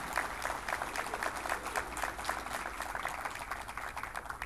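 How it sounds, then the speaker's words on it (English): Audience at a business roundtable breakfast claps steadily for a committee's work, a dense, even patter of many hands filling the room throughout at moderate loudness. "I think that deserves a round of applause"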